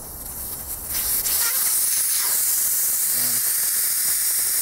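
Air hisses steadily out of a tire as its valve core is pulled with a small tool during a home tire change on a homemade tire machine. The rush is close and loud, swelling after a second and holding unbroken.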